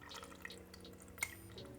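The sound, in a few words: hot cannabutter liquid poured through a filter bag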